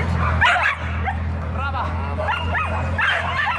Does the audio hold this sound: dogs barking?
yes